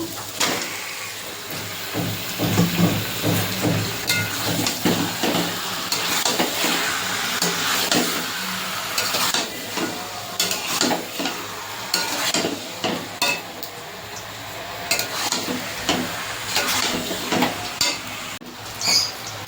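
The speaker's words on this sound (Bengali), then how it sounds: "চিকেনটা আমি 3-4 মিনিট আমি ভেজে নিয়েছি।" Marinated chicken for Mughlai chicken frying in a pan, a continuous close sizzle broken by repeated scraping and stirring strokes at an irregular rhythm, with no voices throughout.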